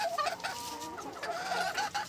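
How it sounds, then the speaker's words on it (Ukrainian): A young rooster and a hen squabble, trading quick, agitated clucks and squawks at close range in a steady back-and-forth, with no talking. "О, молодий півень із куркою, кокаїнкою. Виясняють відносини."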